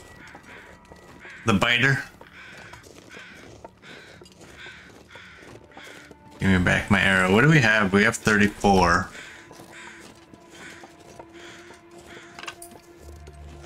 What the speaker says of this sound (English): There's crows right there.